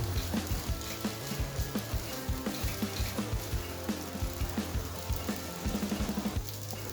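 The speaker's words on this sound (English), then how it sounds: "once your egg is all just about cooked, you're going to stir back through the rice" Egg and rice fry in a pan with a soft, steady sizzle and crackle, punctuated by light rhythmic scraping taps of stirring, heard quietly and up close without talk.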